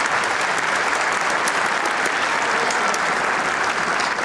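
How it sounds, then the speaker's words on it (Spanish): Loud, sustained applause from a forum audience of students at the Universidad Nacional San Agustín, dense steady clapping filling the whole stretch without pause. "Recibimos con muy fuertes aplausos."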